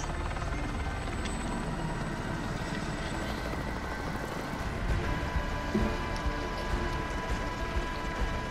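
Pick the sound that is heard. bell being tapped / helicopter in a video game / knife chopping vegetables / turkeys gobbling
helicopter in a video game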